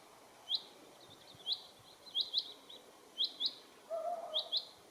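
A chaffinch sings outdoors on a hike along a river valley trail, its short bright chirping phrases repeating every second or so at moderate distance over a quiet background.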